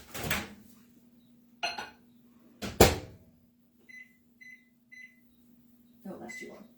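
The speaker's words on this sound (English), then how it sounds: "I'm going to just pop it in the microwave just to soften it up a little bit." A microwave oven softening cream cheese hums steadily, punctuated by the clunk of its door and button presses. Three short beeps follow, with brief talk at the start and end.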